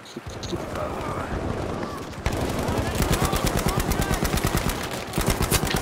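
Sustained rapid machine-gun fire fills a Battlefield V match, with dense, loud bursts rattling nearly without pause and a sharp, faster volley from about the second mark onward.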